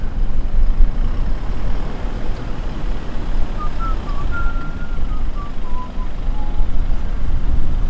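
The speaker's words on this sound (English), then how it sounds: "Take your stock Hilux down a steep dune." A stock 2021 Toyota Hilux creeps down a steep sand dune in first gear low range, its engine a steady low drone close by with wind noise and a faint whine drifting over it.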